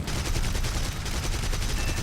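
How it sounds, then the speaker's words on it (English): Aircraft cannon fire in the combat flight game War Thunder: a dense, continuous rapid burst of loud gunfire lasting about two seconds, with no talking. "dropped him with cannons"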